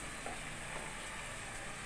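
Mehran Bombay biryani masala fries in a pan for a spicy chicken biryani, a steady, even sizzle that stays faint and continuous with no talking.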